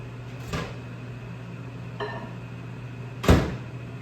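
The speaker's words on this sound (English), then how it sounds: "we'll throw that in the microwave for about 30 seconds" A microwave heating milk hums steadily nearby, with a couple of sharp clunks and a clatter breaking through the low drone.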